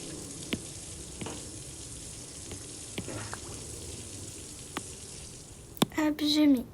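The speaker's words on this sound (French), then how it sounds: "Et je vais prendre ma douche." Shower water runs in a steady, fairly soft wash, with a few small knocks and taps, then a voice speaks briefly near the end.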